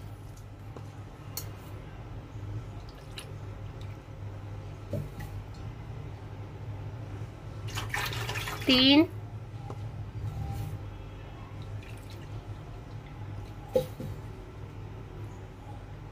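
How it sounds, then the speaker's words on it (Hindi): Water poured into hot ghee in a pot gives a brief, sharp hissing splash lasting about a second, over a steady low background hum. "हम इसी कटोरी के नाप से 4 कटोरी पानी डालेंगे"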